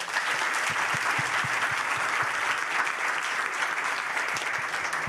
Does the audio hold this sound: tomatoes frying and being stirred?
no